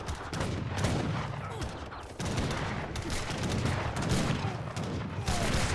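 Dense, continuous musket volleys crackle through an Age of Empires III battle between Ordnance Riflemen and Imperial Recruits, with overlapping shots at a loud, steady level across the whole stretch.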